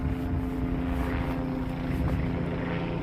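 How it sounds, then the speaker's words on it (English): A helicopter cruises overhead along a city street at night, its rotor and engine drone steady and moderately distant, holding a constant low hum for the whole stretch with no talk over it. "Chopper's cruising."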